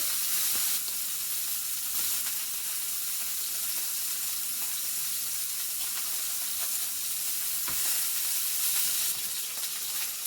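Beef tenderloin steaks sear in a hot pan with a loud, continuous close-up sizzle and a few faint knocks and shifts, with no one talking.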